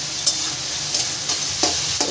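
Cauliflower and potatoes frying with black cumin for fried rice, a steady sizzle broken by a few soft stirring scrapes, close and moderately loud with no voices.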